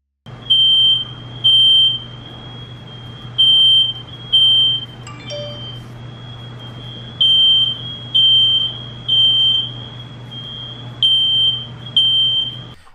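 A smoke alarm beeps loudly in a repeating pattern of three shrill tones, then a pause, continuing over a low steady hum.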